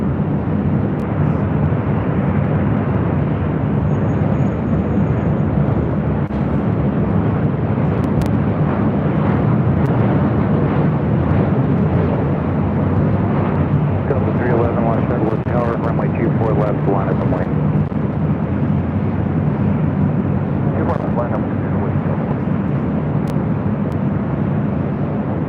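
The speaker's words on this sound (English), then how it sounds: "As we have the Southwest 737-700 next arrival" A Southwest Boeing 737-700 arriving at LAX, its broad continuous jet roar loud and sustained throughout, with faint voices beneath.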